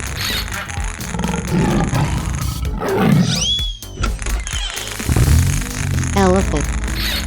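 A tiger roars in a 3D animal sliding game, with a loud growling roar in the middle of the clip over busy music and game effects.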